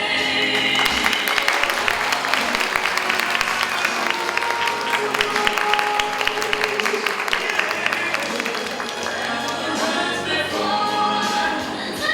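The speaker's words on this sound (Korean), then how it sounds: "다시 한번 큰 박수" Guests applaud warmly at a wedding ceremony, continuous crowd clapping filling the room, full and even throughout with a light hum of chatter and occasional cheers underneath.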